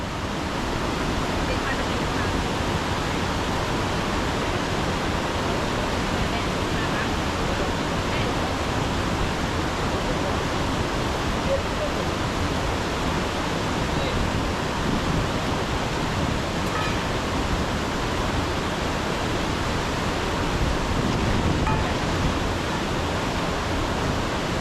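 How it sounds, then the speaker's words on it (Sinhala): Na Ella waterfall on a wild hiking and camping trail from Kalugala, a close, steady roar of falling water that stays constant and dense from start to end without any break. "මෙහෙන් ඇල්ල වැටෙනවා"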